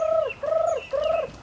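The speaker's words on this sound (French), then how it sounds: "Et voici pour les poules pondeuses." Laying hens in a coop give three drawn-out, wavering calls in quick succession, close and fairly loud with little background noise.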